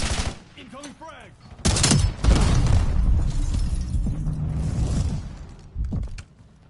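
A frag grenade blast in Call of Duty bursts loud and close, followed by heavy rumbling gunfire and booming shots, with another sharp burst near the end.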